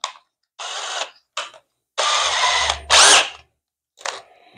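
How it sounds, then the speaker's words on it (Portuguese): A power drill bores a hole through wood to make a bar clamp, running in several loud whirring bursts of varying length, close up, separated by silences, with no talk. "eu vou usar a minha broca para referência e transpassar o furo aqui agora"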